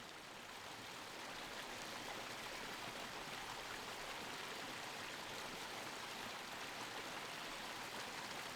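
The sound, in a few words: creek flowing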